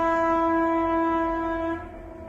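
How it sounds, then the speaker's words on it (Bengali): A harsh, unpleasant-sounding train horn sustains loudly for under two seconds and then stops, leaving a low rumble of the passing train, with no voices. "মানে এরকম বিশ্রী হর্ন আমি সাধারণত শুনিনি।"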